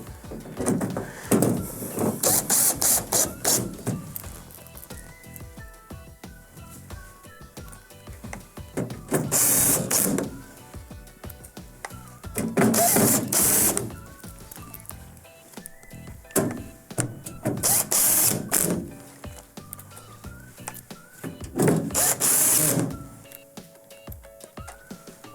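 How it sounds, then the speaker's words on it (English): A driver sets number 2 Phillips beveled screws across the top of the wrap on a Whirlpool over-the-range microwave. Several short whirring bursts of one to three seconds each are broken by quieter handling clatter and thunks. "The next step is to secure the top of the actual wrap with the 6 beveled screws"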